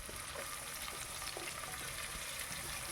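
Four medium onions, sliced very thin, fry in a pan with a steady, moderate sizzle and occasional stirring scrapes, close and without talk.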